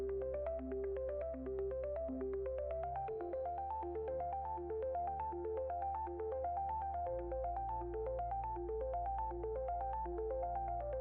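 A phone ringtone plays a repeating melodic pattern over a sustained low tone, steady and continuous for around eleven seconds without any voices.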